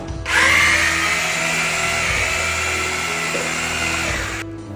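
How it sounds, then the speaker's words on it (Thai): A loud electric drill mixing mortar whirs steadily for several seconds, starting abruptly and cutting off at the end, with a slight strain in its pitch as it churns. "แล้วก็เอา ไอ้สว่าน ผสมนะ ให้มันเข้ากันนะครับ"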